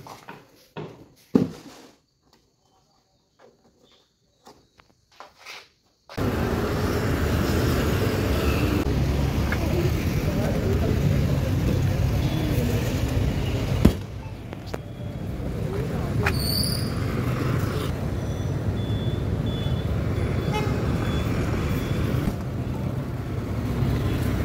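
Road traffic in Bengaluru sets in after a few quiet seconds of faint knocks, then a steady, fairly loud rumble of passing vehicles continues throughout, with an occasional sharp click or tone.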